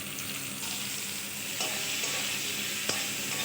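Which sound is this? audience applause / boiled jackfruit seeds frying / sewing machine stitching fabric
boiled jackfruit seeds frying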